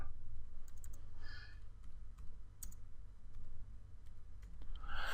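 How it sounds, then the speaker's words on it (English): A phone number being typed on a keyboard, heard as sparse, light key clicks scattered over a few seconds against a low steady background hum, quiet and close, with no one speaking. "And we will type the number."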